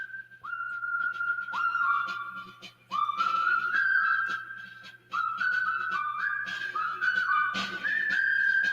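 A whistled theme from The Bridge on the River Kwai, a clear melodic tune with steady phrases and brief pauses, played back alone at moderate volume with no talking over it.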